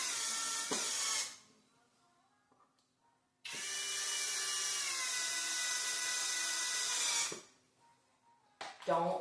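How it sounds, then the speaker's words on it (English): A power drill slowly drives screws while assembling a drink and coffee bar, whirring in two bursts, a short one then a longer steady run of several seconds, with a brief pause between and a clatter at the end. "use my drill, nice and slow."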